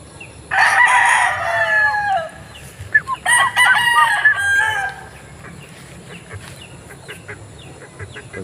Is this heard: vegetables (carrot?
no